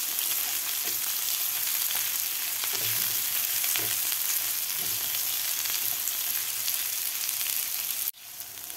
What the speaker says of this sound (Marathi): थोडासा गुलाबी कलर होईपर्यंत आपल्याला कांदा हा भाजून घ्यायचा आहे